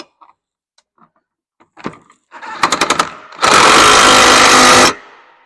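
A power driver tightens a closing wheel bolt on a Yetter Twister closing wheel, heard as a few short rattling bursts and then one loud sustained whir of about a second and a half, close and alone after faint clicks.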